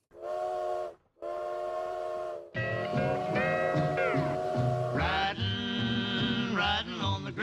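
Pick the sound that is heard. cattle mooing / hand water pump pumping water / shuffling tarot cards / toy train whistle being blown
toy train whistle being blown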